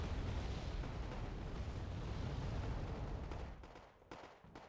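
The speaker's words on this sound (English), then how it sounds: "called in artillery support" Artillery fire in the Wargame Red Dragon video game: a continuous, muffled rumble of distant barrages that fades toward the end, with a few scattered pops.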